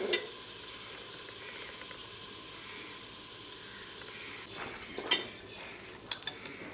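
Onions fry lightly in a pan for brinjal bharta, giving a faint steady sizzle with a few soft clinks and scrapes of utensils near the end.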